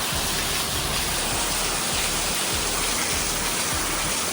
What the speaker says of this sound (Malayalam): മഴ പെയ്ത് കഴിഞ്ഞപ്പോഴത്തേക്കിനും വെള്ളം പോകുന്നു.